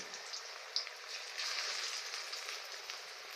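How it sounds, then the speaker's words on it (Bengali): Drumstick flower fritters fry in oil with a soft, steady crackling sizzle, faint and continuous, with a few brief pops and no voices. "খুব ধৈর্য ধরে এটাকে ভাজতে হবে"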